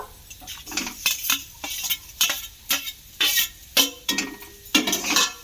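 Boiled, broken-up potatoes are stirred into fried spices in a pan for potato puff filling, with a spoon scraping and clinking in repeated strokes over a faint sizzle.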